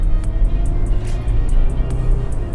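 Engine and road noise from a 2013 Mitsubishi Pajero Sport 2.5 GT 4WD SUV on a test drive, a steady low rumble with faint ticks inside the cabin, no talking.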